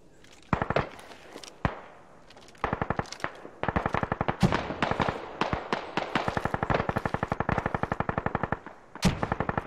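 Heavy .50 caliber machine gun fire in the military shooter game Squad, loud rapid bursts of evenly spaced shots repeating over ten seconds with short pauses between strings.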